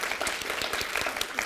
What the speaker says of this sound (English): Round of applause for Omri.